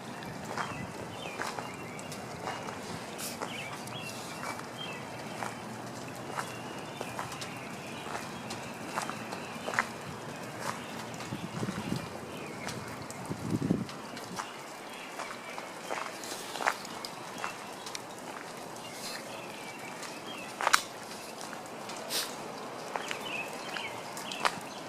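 Footsteps crunch over a layer of large hailstones left by a storm in Fort Worth, Texas, a steady walking rhythm of gritty, icy crunches heard up close over faint outdoor background.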